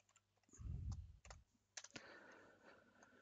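Typing on a computer keyboard while writing a formula in Wordmat, heard as a burst of close key clicks and taps with short pauses, fairly quiet and without talk.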